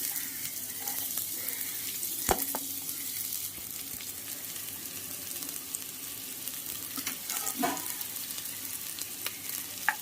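Sliced onion frying in coconut oil for a vegetable rice dinner, a soft continuous sizzle with clattering stirs and a couple of sharper knocks, with a trickle of running water in the background and no talking.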